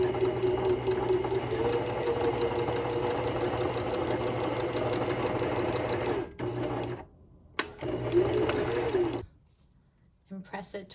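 A sewing machine runs a quarter-inch seam along a fabric heating pad front panel with a close, steady mechanical whir that stops briefly twice, while a person talks over it.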